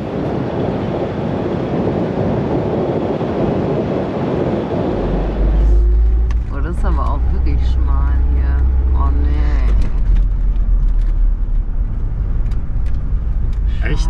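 An expedVan camper van pulls away from a viewing platform; steady wind buffeting gives way to a deep, continuous engine and road rumble, with voices talking over it.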